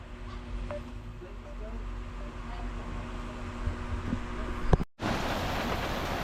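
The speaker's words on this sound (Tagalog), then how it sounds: "Nabot na kami ng ulan guys, oh, mga kalingap. Nabot na kami ng ulan." Steady rain hiss fills the background with a low constant rumble, and a brief loud clatter near the end before the rain noise continues more brightly.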